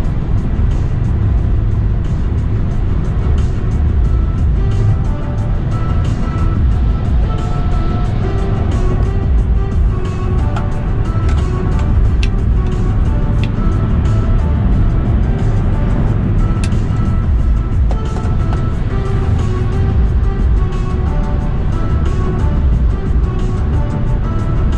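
Tesla Model 3 Facelift driving with regenerative braking, giving a steady, continuous low road and cabin rumble with faint tonal whine throughout, no talking.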